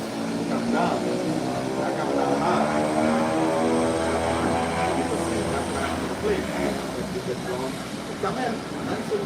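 Beechcraft propeller airplane taxiing away, a steady droning engine hum with rising and falling tonal sweeps that stays loud and continuous throughout.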